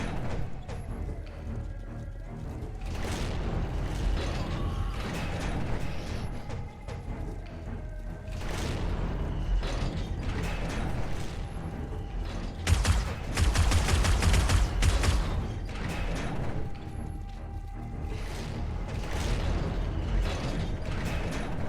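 Zombies pound on a base block in 7 Days to Die, a steady run of repeated thuds and crunching impacts with clattering debris, fairly close, peaking in a denser flurry of blows partway through, with no talk.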